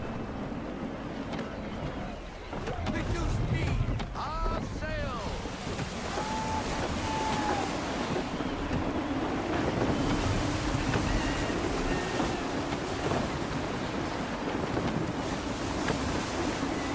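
Gusty wind and rolling waves surround a warship under sail in Assassin's Creed 3, a steady broadband rush with brief whistling tones and a voice speaking intermittently over it.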